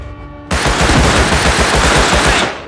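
Rapid automatic gunfire in Rust Console Edition bursts in after a half-second lull, a loud sustained volley of close shots lasting about two seconds before tapering off.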